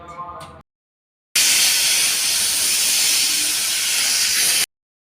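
Pressure cooker on the stove cooking sprouted bean sambar lets out a loud, steady hiss of steam for about three seconds, following a brief moment of speech at the start.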